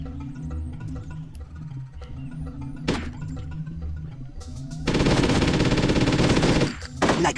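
Gunfire in the video game Hitman: Codename 47, a single sharp shot early on over a rumbling background, then a loud sustained burst of rapid fire near the end.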